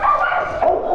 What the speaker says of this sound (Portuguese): Os cachorros de Laila latindo e ele latindo também